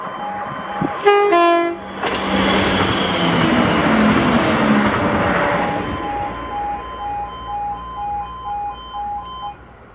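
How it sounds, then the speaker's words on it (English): A ScotRail passenger train sounds a two-tone horn at a level crossing, then rushes past with a broad roar that fades, followed by the steady chime of crossing alarms. "This is 1B32, the 1441 ScotRail service to Edinburgh from Aberdeen."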